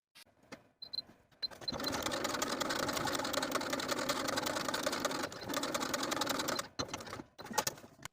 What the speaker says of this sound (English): And then sew all the way around, edge stitching close to your finishing stitches